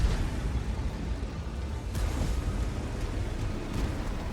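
Video game combat rumbles with muffled gunfire and explosions, a continuous low booming wash with a few sharper bursts, moderately quiet and without speech.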